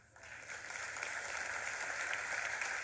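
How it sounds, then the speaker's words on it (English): Church congregation applauding during a sermon, a broad steady wash of clapping that swells in after a brief quiet start and holds evenly, no voices over it. "it's okay to applaud for that."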